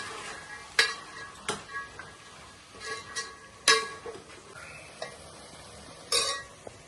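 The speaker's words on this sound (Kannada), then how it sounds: "ಸ್ವಲ್ಪ ಅರಿಶಿನ ಹಾಕೋಬೇಕು ಮತ್ತೆ ಸ್ವಲ್ಪ ಉಪ್ಪು ಹಾಕೋಬೇಕು ಫ್ರೈ ಮಾಡಬೇಕು" Turmeric and salt fry in a pan for a mutton keema dish, a quiet sizzle running under intermittent spatula scrapes and light metal clinks against the pan.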